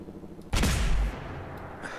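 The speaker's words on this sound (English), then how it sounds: "here's some gunfire back there" Gunfire in Fallout 4 survival mode: one sharp, loud in-game shot bursts out and its echo rolls away over about half a second before fading to low ambience.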